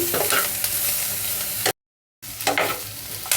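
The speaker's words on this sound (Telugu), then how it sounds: "కరివేపాకు రెండు నిమిషాలు ఉల్లిపాయలను వేయించుకుందాము" Onions frying with curry leaves in a hot pan give a steady close sizzle with stirring scrapes throughout, cut by a brief silent gap before the frying noise resumes.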